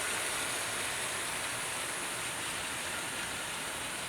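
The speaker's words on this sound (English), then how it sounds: "V2 doing very nicely with her train" An LNER V2 model steam locomotive runs steadily with its train of carriages, a continuous even rolling rush close by with no breaks or talk.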